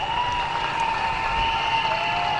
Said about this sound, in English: Scott Campos coming round to the applause here.